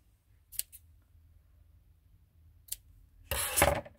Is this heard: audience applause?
no